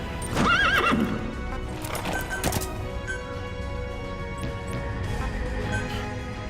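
A horse in the Metal Gear Solid video game gives a loud whinny near the start, followed by steady clip-clopping hooves with game ambience continuing throughout.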